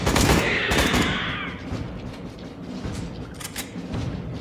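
Gunfire in the video game Aliens: Colonial Marines, a loud burst at the start that fades into a dense rumbling battle ambience with scattered distant shots.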